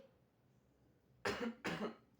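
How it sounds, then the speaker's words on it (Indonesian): Two quick, close coughs in a row after a moment of near silence. "ini aku agak batuk dikit ya"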